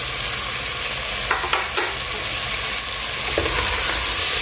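Mutton fries in a pan with chopped green chillies and black pepper, giving a steady, close sizzle throughout with a few brief scrapes of stirring.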